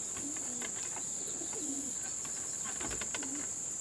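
Pigeons coo softly at their coop in short, low bursts that recur several times, set against a steady high insect-like hum and light background rustle.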